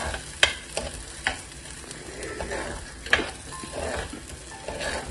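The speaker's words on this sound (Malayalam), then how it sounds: "ഈ എണ്ണക്കകത്ത് ഈ മസാല ഇട്ടത് നന്നായിട്ട് അരച്ച് വെച്ചിരിക്കുന്ന ഈ മസാല നന്നായിട്ട് എണ്ണ തെളിയുന്നത് വരെ" Ground masala paste frying in oil for a Kerala fish curry, a soft steady sizzle broken by several sharp stirring clanks of a utensil against the pan.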